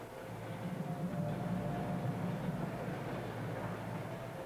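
Steady low rumble of a train rolling past, a continuous heavy drone without clear breaks, fairly loud and even throughout with no voices.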